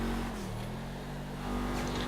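Audi RS7 Sportback in the video game GTA 5, its engine holding a steady, loud droning tone that dips slightly in the middle and swells again toward the end, with no voices.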